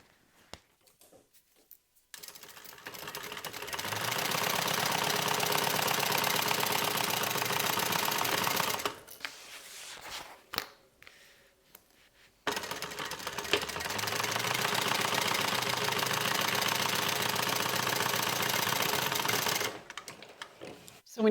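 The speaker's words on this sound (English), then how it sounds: "We're going to stitch the top using a 1/2 inch seam allowance." A sewing machine topstitches a tote bag seam in two long, steady runs of rapid needle chatter. A short quiet pause separates the runs, and faint handling noises sit between them.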